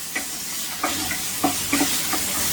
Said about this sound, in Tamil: இதில் கொஞ்சம் வதங்கட்டும், வெங்காயம் வேகட்டும்